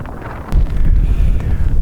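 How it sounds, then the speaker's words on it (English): Strong wind on a moorland hilltop at Horse Stones Naze, a deep gusty rumble that surges in after half a second and keeps buffeting the microphone hard. "the wind up there was unbelievable. It was nearly blowing me off my feet"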